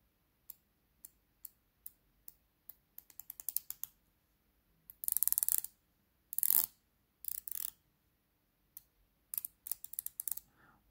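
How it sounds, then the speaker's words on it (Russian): Citizen ProMaster Aqualand diving watch's unidirectional 120-click bezel being turned, crisp tiny ratchet clicks in quick runs and scattered singles, very close and quiet, with no talk. "Послушайте, как он щелкает."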